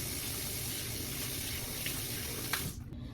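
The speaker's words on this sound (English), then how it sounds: "let me wash my hands." A tap runs steadily into a sink while hands are washed, a continuous close rush of water that cuts off abruptly near the end.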